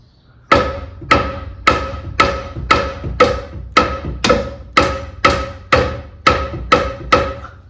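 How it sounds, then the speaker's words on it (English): Repeated heavy rubbery thuds of a rubber mallet on a car's metal sway bar end link, about a dozen strikes at a steady, even rhythm, each with a short ringing decay, close and loud with no talking. "Let's see if this rubber mallet works."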